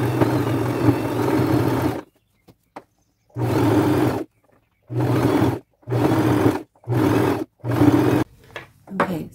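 Sewing machine fitted with a denim needle stitching fringe onto a boho fringe flap bag, a close steady motor hum in one long run followed by five or six short stitching bursts separated by pauses.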